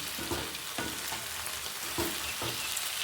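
Brinjal and raw prawn curry frying in a pan, a soft continuous sizzle with periodic scraping stirs roughly every half second, close but fairly quiet, no voices.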